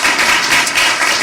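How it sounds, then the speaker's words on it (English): A symposium audience gives a loud, dense round of applause for a community cheer-squad leader, a continuous close wash of many hands clapping throughout. "So please give another round of applause to Tiori Watson."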